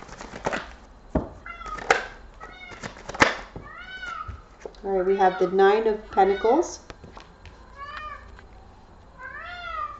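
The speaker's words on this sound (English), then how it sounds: "That's my cat meowing." A cat meows insistently close by, a run of loud wavering cries in the middle and more plaintive meows near the end, while a person talks over the start.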